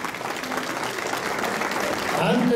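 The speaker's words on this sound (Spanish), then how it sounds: "Los aplausos correspondientes a los flamantes padrinos" Wedding guests applaud the godparents at a ceremony in Huancayo, a steady clapping crowd that swells slightly louder toward the end, with a voice speaking over it.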